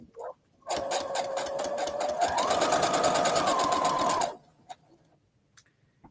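Close, steady whirring of a sewing machine stitching small fabric scraps together, a rapid even needle rhythm running for about four seconds before stopping, followed by a few faint clicks and handling sounds.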